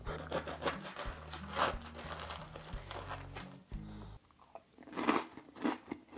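Close bites into a crispy vegan product, a crust that is crunchy but not too hard over a soft inside, giving several crisp crunches followed by chewing.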